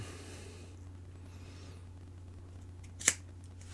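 A single sharp snip of scissors cutting through a lanyard cord, close and crisp against a quiet, faintly humming room.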